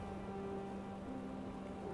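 Steady rain pours in a continuous hiss on a car during a night drive through a tunnel, with wipers pushing raindrops aside; low, even and unbroken with no voices.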